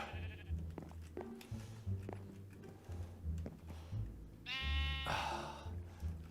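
Sheep on a sheep farm in the Minecraft video game bleat in short, repeated calls over soft game ticks and patter, one louder bleat standing out near the end.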